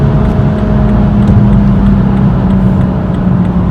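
A BMW M235i xDrive accelerating hard, with a steady loud engine drone heard from inside the cabin and a strong low hum holding throughout.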